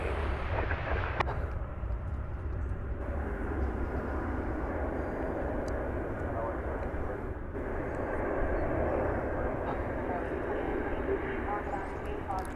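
An American Airlines Boeing 787-9 Dreamliner arriving from Frankfurt at Dallas Fort Worth rumbles as a broad, steady jet roar with a low-frequency wash, sustained throughout at moderate distance, with a person talking intermittently over it.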